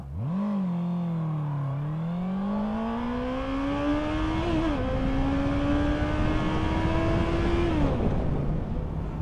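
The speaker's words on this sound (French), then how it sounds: "je vais vous faire un départ arrêté 0-100 km/h à bloc" A Honda CB650R motorcycle engine revs hard from a standstill, pitch climbing through several gear changes in a continuous loud full-throttle 0-100 km/h acceleration with no talking.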